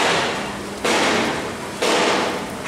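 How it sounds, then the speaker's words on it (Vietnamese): Loud, dense metallic banging from workers hammering at a barge shipyard building a 200-ton barge, a continuous clattering din with two sudden surges in intensity, no talk over it. "Wow, mấy anh đóng ầm ầm quá dữ rồi."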